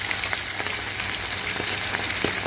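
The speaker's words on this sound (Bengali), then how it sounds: "তেল গরম হয়ে গেছে, এবার মাছ দিয়ে দেবো একে একে করে" Fish pieces sizzle in hot oil in a pan, a continuous close hiss with scattered crackles and small spits, steady throughout with no talking.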